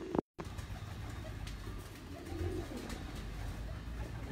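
Sialkot pigeons coo in soft, low repeated calls that are steady and fairly close, set against a continuous low background hum with no talking.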